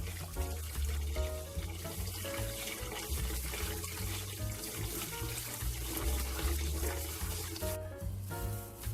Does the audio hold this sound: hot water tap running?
yes